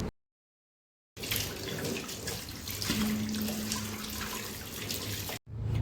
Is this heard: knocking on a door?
no